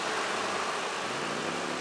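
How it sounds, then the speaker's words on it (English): Lexus LX470 engine idling smoothly in the open engine bay, a faint, steady hum with no voices. "Engine is on. Just gonna go ahead and show you guys nice and smooth idle."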